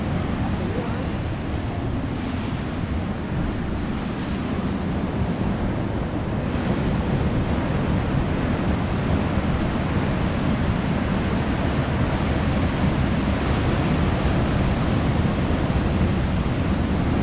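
Sea waves rolling onto the shore at Whitley Bay under strong wind, a dense, continuous roar of surf and buffeting wind noise.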